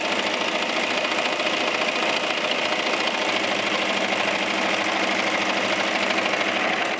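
A sewing machine runs continuously, stitching fabric for a yoga top wrap, a fast, even mechanical whir with a rapid ticking needle rhythm, close and steady with no pauses.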